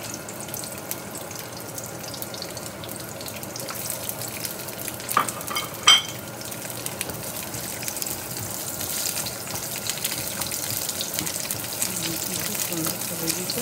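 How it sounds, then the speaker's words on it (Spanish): Onions sizzling in hot oil in a pan with steady, close frying crackle throughout, a couple of sharper clatters from a utensil midway, no talking. "Bien, puse el aceite, voy a poner las cebollas."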